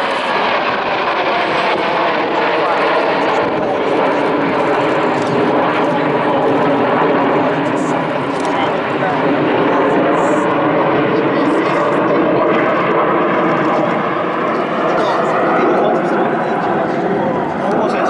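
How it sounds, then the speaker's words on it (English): Aircraft fly over the Royal International Air Tattoo airshow, a loud, sustained engine roar and drone that fills the whole stretch without letting up, with a voice talking over it. "So, as you can see, planes. Lots and lots of planes,"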